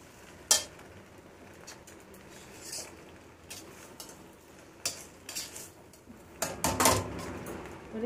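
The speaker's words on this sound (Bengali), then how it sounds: "চিজটা দেওয়া হয়ে গেছে, এবার মিশিয়ে নিই একটু" A spoon stirs cheese into chicken pasta in a pan with sporadic, quiet scrapes and clinks against the metal, a few louder strokes near the end, and no talking.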